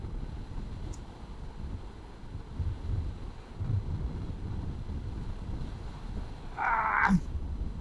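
Gusty wind roars across a motorcycle rider's microphone on a solo loop around Mindoro, a heavy low rumble that swells midway, with a brief brighter burst near the end.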